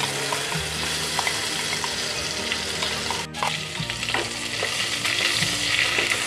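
Masala paste for misal frying in hot oil with cumin seeds, a steady crackling sizzle with a stirring scrape and a brief dip near the middle, no talking.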